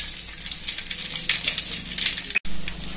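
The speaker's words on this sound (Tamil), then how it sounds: "இந்த பூண்டை நம்ம இந்த எண்ணெயில் அப்படியே கொஞ்சமாக பொரிச்சு எடுத்துக்கலாம்" Crushed garlic cloves frying in oil for an amla pickle give a steady, bright sizzle that stays close and constant, with one very brief dropout near the end.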